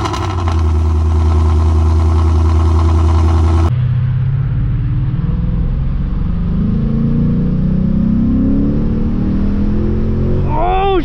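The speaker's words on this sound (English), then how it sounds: "Let's get a little cold start." Ford Mustang fitted with new headers cold-starting: a loud starter crank and catch into a high, rough fast idle that settles lower, steady and close throughout, ending with a brief rev.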